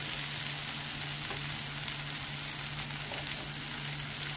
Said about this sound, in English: I put some coconut oil in there, and I'm just like fry dry it